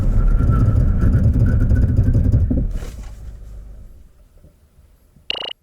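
A 2019 Chevrolet Malibu 1.35 E-Turbo decelerates hard in a braking test, its road and engine rumble fading steadily over a few seconds. A short sharp squeal follows at the very end.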